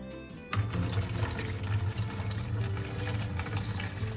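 Whey water from mozzarella curd is poured off into a container, a sudden start to a steady splashing, gurgling pour that runs on continuously and close by.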